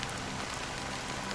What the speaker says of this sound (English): The rain's a little loud.